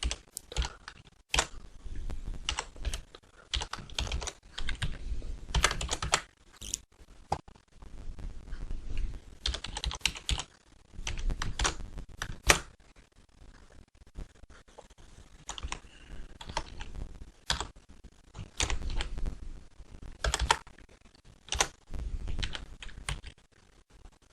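Code is typed on a computer keyboard in irregular runs of quick, close clicking keystrokes with short pauses between bursts, no talking.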